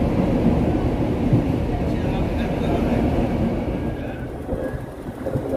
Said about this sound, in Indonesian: Kereta api komuter Lain Sindro saat ini sudah masuk stasiun Tandes.